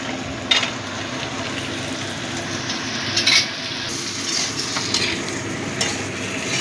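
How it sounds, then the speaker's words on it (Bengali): Ginger fries in hot oil in a pan with a constant soft sizzle, while a spoon stirs and taps against the metal now and then. It is close and moderately loud. "আদাটা ভালো করে ভাজা হয়ে গেছে"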